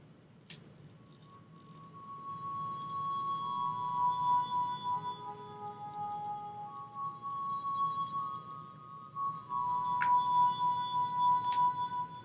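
A solo instrument track in a composition session, drenched in reverb and echo: sustained glassy, bell-like tones ringing and overlapping with soft chiming accents, spacious and fairly quiet, with no talking.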